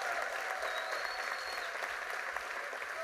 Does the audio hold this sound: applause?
yes